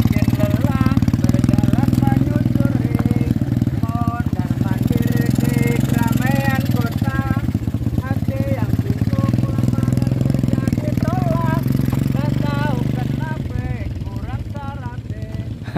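A specially set up Honda motorcycle engine runs nearby at a dry reservoir, a loud, steady low rumble, while someone talks over it throughout.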